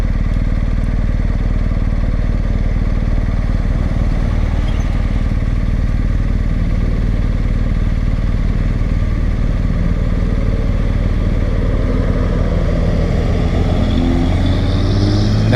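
BMW R1250 GSA motorcycle engine idling at a stop with brief throttle blips, a constant loud low rumble close to the rider, with wind noise and no talk.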